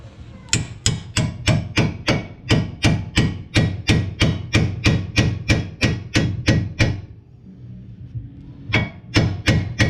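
Steady, rapid hammer blows pound a tool into the split joint of a Volvo S40 front strut knuckle. The strikes are sharp, metallic and close, a long even run that pauses briefly and then resumes.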